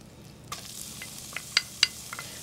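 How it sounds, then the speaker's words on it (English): Butter melting with finely minced shallots sizzling in a pan for a lemon risotto: a faint steady sizzle broken by a few sharp, close crackles and pops. "we're going to melt that butter, and to that we're going to add some finely minced shallots or onions"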